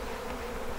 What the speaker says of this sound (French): j'attends que les abeilles se regroupent en entier et que ça se calme là